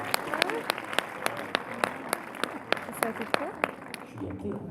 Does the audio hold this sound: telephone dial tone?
no